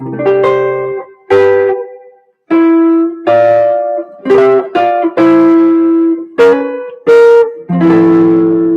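Guitar plays a chord melody, a series of plucked chords and single notes in a steady phrase, close and clear with short pauses between.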